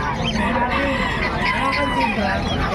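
Gamefowl roosters crow and cluck among a crowded flock, overlapping calls rising and falling, with people talking in the background.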